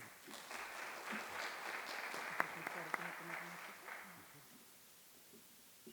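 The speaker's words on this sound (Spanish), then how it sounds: "recibamos con un aplauso al presentador" An audience applauds steadily for several seconds, then the clapping thins out and fades away, with a few sharp individual claps standing out.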